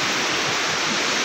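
The Ganga river rushes past near Gangnani in Uttarkashi, a close, steady, dense roar of flowing water with no voices over it.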